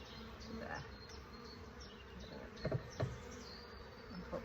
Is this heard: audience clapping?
no